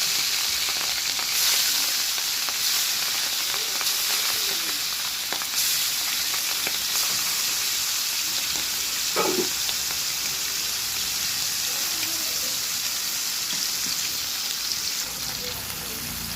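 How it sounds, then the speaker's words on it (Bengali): Rohu fish frying in hot oil in a kadai, a steady loud sizzle crackling throughout with a brief clink near the middle, recorded close up. "আমার তেল গরম হয়ে গেছে, এবার আমি মাছগুলোকে দিয়ে দেব।"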